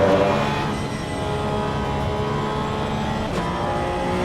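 A race car engine drones steadily at Spa in Assetto Corsa EVO, loud and sustained, with faint gear-change dips as it holds speed without going flat out.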